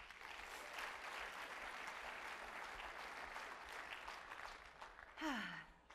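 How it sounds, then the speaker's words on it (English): A conference audience at a LIFTx 2018 leadership event gives a big round of applause, dense and steady clapping for about five seconds, ending with a brief falling whistle-like tone. "please give yourselves a huge round of applause"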